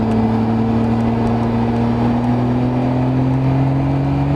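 Loud, close engine of a Nissan Skyline R33 GTR pulling hard, its tone rising smoothly and continuously with no voices over it.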